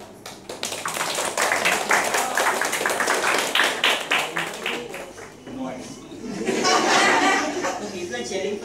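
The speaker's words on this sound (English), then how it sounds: "So people are cheering for you so well." An audience at a Mumbai media collective event claps in a steady run of sharp, quick hand claps, then breaks into a louder swell of cheering and chatter, with some laughter mixed in.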